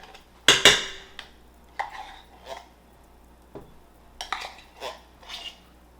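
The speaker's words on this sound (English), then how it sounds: "I know it's loud beating it on the side of the pan" A metal spoon knocks sharply against the side of a pan of tomato paste for spaghetti sauce a few times, followed by softer scraping and clinks of cookware in a quiet room.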